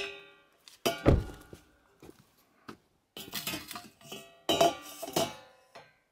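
A metal cooking pan is handled at a car campsite in the Ouachita National Forest, giving close, intermittent thunks and clanks of cookware.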